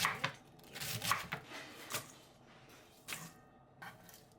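Napa cabbage being sliced thin, about 0.2 cm thick, with a knife: a quiet series of crisp, close chops in an uneven rhythm, some in quick pairs and others spaced apart, over a soft background.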